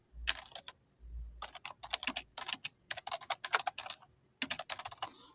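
Rapid clicking keystrokes on a computer keyboard, typed in quick bursts with a couple of short pauses, close and fairly quiet.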